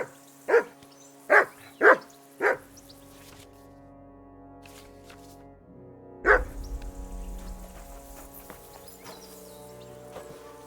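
A dog in the medieval game Kingdom Come Deliverance 2 gives four quick close barks, falls quiet, then lets out one more bark followed by softer rustling and a low rumble.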